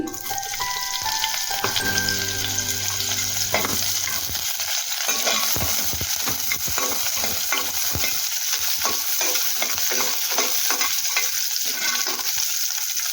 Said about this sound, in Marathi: तेल कडत आलेलं आहे, त्याच्यामध्ये आता आपण टाकूया हिरवी मिरची